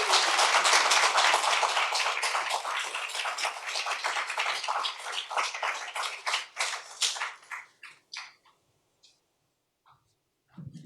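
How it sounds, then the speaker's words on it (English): An audience applauds after a poetry reading at a Caribbean literary festival in Brooklyn. Dense clapping thins out over several seconds into a few scattered, isolated claps before falling silent. "Please give her another round of applause."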